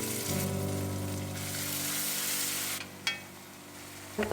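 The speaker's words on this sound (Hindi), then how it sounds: "प्याज को भून रही हूँ मैं अच्छे से" Steady sizzling of onions frying in a pan with whole spices and ginger-garlic paste for chole, a continuous hiss with a couple of brief clinks near the end.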